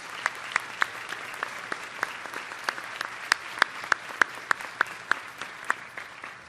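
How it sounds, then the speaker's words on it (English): Graduation-ceremony audience applauding at a college commencement, a sparse, moderately faint patter of distinct handclaps at a steady, uneven rhythm rather than a dense roar. "Please join me in applauding their good work on behalf of our graduates."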